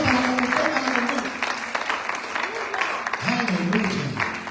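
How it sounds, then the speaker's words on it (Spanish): A church congregation claps steadily and loudly throughout, with voices calling out and singing over the applause. "Debe tener un aplauso fuerte a Dios por la misericordia del Señor"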